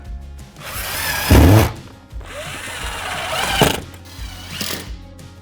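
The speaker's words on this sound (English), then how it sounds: "install a screw through the back. Continue this process until the J is fastened." A power drill drives screws through metal soffit J-channel into a wall, heard up close as several short whirring bursts with uneven pauses, mixed with clanks and rattles of the metal trim.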